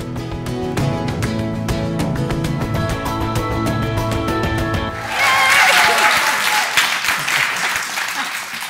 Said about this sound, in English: how nice to start a show with applause